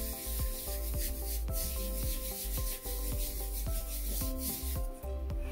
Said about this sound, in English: Folding and rubbing.